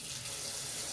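Tap water pours onto a plastic model kit sprue as it is rinsed, a brief steady splashing hiss that stays even and close throughout.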